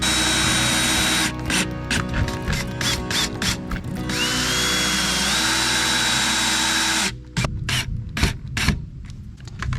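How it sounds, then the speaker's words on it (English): A power drill drives screws into a dryer vent, with loud close whirring bursts and ratcheting clicks in several short runs and brief pauses between them. "We'll run some screws in here"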